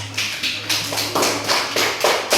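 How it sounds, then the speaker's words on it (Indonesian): A classroom of primary school children claps for group 3, a loose series of sharp, separate claps in uneven rhythm, close and fairly loud. "Tepuk tangan buat kelompok 3."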